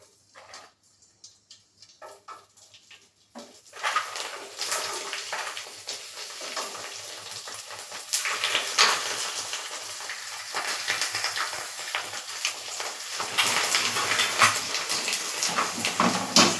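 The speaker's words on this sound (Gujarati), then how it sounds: "તો આપણે ભૂંગળાને છે તે તળી લેશું" Yellow bhungla fryums drop into hot oil and set off a steady, rising sizzle and crackle after a few quiet seconds, loud and close, with no voices over it.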